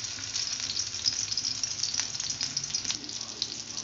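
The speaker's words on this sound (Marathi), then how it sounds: "अशा प्रकारे फ्राय होत आहे." Stuffed bitter gourd (karela) fries in a pan, turned round so every side roasts, with a steady close sizzle of hot oil going on throughout, no voices.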